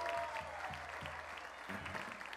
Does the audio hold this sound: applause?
yes